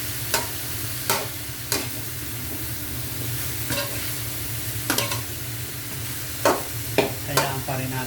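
Browned chicken sizzles steadily in a pot for tinola while a spoon stirs it, with regular scraping knocks against the pot over a constant close frying hiss.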